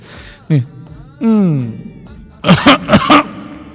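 A short burst of several sharp, close coughs in quick succession follows a couple of brief vocal sounds.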